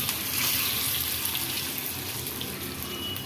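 Loud, steady crackling sizzle of tempering spices and curry leaves frying in hot oil, dense and continuous throughout, heard up close with no voices.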